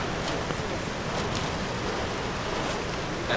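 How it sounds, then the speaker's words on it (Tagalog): Heavy typhoon rain in Ilocos pours down as a steady, dense broadband wash with gusty wind, continuous and close throughout, with no clear pauses. "Sobrang lakas pa rin ng ulan. Ayaw tumigil nito."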